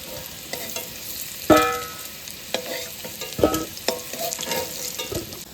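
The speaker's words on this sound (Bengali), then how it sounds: "আর এদিকে আমার আলু লাল লাল করে ভাজা হয়ে গেছে" Potatoes frying in hot oil in a pan, a steady close sizzle broken by sharper stirring scrapes and clatters of a spatula, with no talking.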